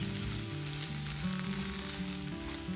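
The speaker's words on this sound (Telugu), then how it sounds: "ఆయిల్ వేడయ్యాక వంకాయ ముక్కలను వేసి వేయించుకోవాలి." Brinjal pieces fry in hot oil with a continuous, dense sizzle at a steady, moderate loudness close by. Faint background tones sit underneath and no one speaks.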